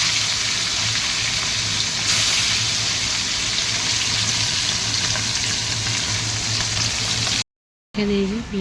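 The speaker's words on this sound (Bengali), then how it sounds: "এদিকে আমার তেল গরম হয়ে গেছে, চলো মাছগুলো ছেড়ে দিই" Fish slide into hot oil and fry with a steady, close sizzle and crackle that keeps up throughout, cut off by a short silence near the end, where faint kitchen sounds follow.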